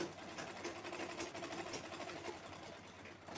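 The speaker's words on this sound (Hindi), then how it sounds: "तो इस तरह से लास्ट तक सिलाई लगा देंगे दोनों साइड में" A sewing machine runs continuously while stitching the side seam of a handbag, giving a fairly faint, steady mechanical chatter with no talk over it.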